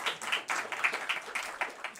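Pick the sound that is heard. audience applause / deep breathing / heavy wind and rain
audience applause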